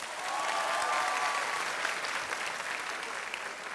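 A Turkish TV talk show studio audience applauds in a thick, continuous roar of clapping that holds steady throughout.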